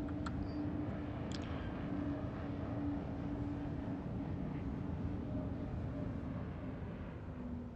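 Low droning hum of RSI Scorpius Antares spacecraft engines spinning down in the Star Citizen game, a continuous rumble that eases slightly toward the end, with a couple of faint clicks near the start and no talking.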